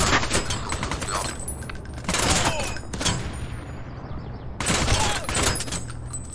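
Gunfire from a zombie shooter video game, several bursts of loud shots at close range. The bursts come in clusters with short gaps of rumbling game noise between them.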